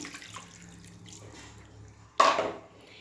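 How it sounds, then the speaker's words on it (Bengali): Water is poured into a cooking pot in one short splashing burst, loud and close after a quiet stretch of faint background noise. "এই যে জলটা দিয়ে দিলাম"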